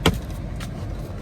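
A started car engine idles with a steady low rumble, close by, broken by a sharp click at the very start and a softer rattle partway through, with no voices.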